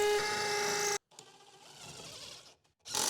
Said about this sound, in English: It sounds like our drill needs a new battery.